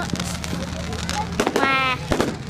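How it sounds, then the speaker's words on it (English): Bonfire Night fireworks going off outdoors in several sharp bursts and crackles, with a whistling rise partway through and people talking in between. "Okay, now back to the fireworks."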